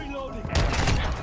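Shotgun blasts in Call of Duty MWII with a Wild West cowboy loadout, a loud, sharp burst of gunfire erupting midway and rolling into booming reports, with a voice talking under it.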